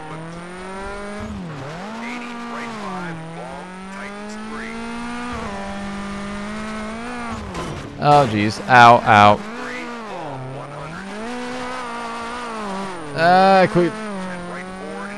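Citroën C4 race car in Colin McRae: DiRT revving hard and sliding, with bursts of tire squeal around the middle and near the end, under steady engine drone and a man's near, constant commentary.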